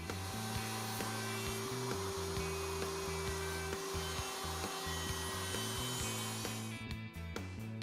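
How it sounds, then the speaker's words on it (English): A router on a router table with a Leigh box joint jig cuts box joint sockets in a wooden board, a steady loud whine with slight pitch shifts throughout before cutting off near the end. "The socket board is then flipped end for end, placed against the socket board stopped, clamped in place, and the other end is routed."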